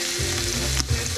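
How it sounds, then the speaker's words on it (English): Leeks added to a hot pan with garlic sizzle loudly and steadily, with a short scrape or stir near the end. "So right now I'm just adding the leeks."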